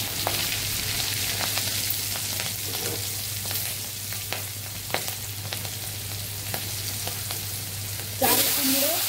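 Turmeric powder sizzles in hot oil with black mustard seeds and green chilies as it is stirred, a steady close frying hiss broken by scattered spatula scrapes and clicks, with a louder clatter near the end.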